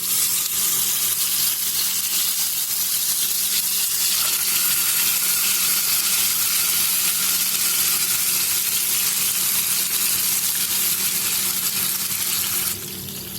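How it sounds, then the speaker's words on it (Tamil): Fish pieces frying in hot oil in a frying pan for a spicy fish fry, a steady, dense crackling sizzle that holds loud and even throughout, with no talking. "ஒரு 5 நிமிஷம் நல்லா ஃப்ரை ஆகட்டும்."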